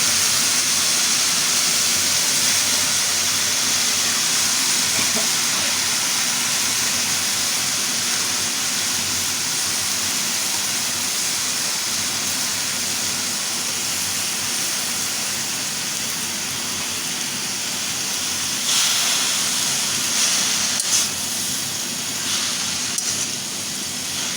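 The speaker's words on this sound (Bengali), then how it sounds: "শাকটা একটু ভাজতে নেব" Jute greens (pat shak) frying in a pan, a loud, steady, close hiss of sizzling oil that holds through the whole stretch, with a few brief rattles near the end and no talking.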